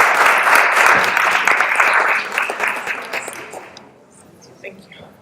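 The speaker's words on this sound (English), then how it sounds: "Please come to the stage and give her a warm applause." An audience at a social entrepreneurship panel gives warm applause for a speaker coming to the stage, dense loud clapping that holds steady for about four seconds before thinning out and fading.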